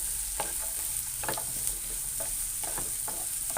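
Onion, ginger, garlic and cashews sauté in a pan with a steady hiss, broken by several stirring scrapes spaced about half a second apart. The sound is close and carries no talk.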